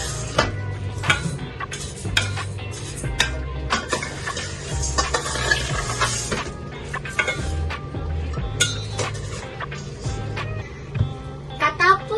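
Rice being washed in a rice cooker pot: grains swished and stirred, with repeated clinks and scrapes against the inner pot, while a person speaks over the sound.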